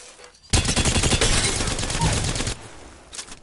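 A Havoc energy rifle fitted with a turbocharger fires in the video game Apex Legends: a rapid, loud, sustained burst of automatic shots lasting about two seconds, followed by a few fainter shots.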